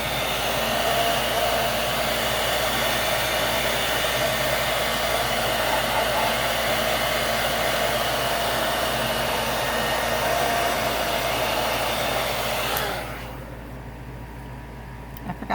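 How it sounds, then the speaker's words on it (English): A hair dryer blows loudly and steadily at close range while drying a sealed jar, a continuous roaring whoosh that cuts off near the end, leaving quieter room noise. "Again, we're going to blow dry. This might take a minute because we want to make sure everything's super dry."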